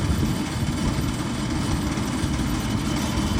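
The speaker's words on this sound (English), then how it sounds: "So Stuart has to drive that tractor at roughly 1 km an hour." A tractor engine chugs steadily at very low speed while coring golf greens, a dense, continuous low rumble close by with no voices.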